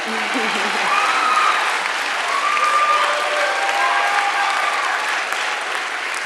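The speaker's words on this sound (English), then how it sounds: "you can clap for that." A commencement audience applauds in a large hall, a steady, loud wash of clapping with faint cheers rising through it.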